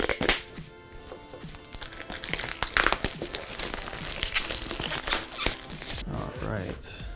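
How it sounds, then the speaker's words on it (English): Plastic wrap crinkles and tears as it is pulled off a small 1:6 scale Replicade 1942 arcade cabinet with wood grain, with continuous close rustling and crackling while a person talks over it. "Let's get this plastic off here."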